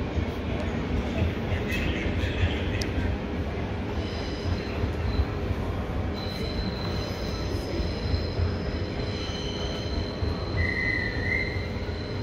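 A train at a station: steady rumbling rail noise with faint high wheel squeals and tones, continuous and moderately distant, with background murmur.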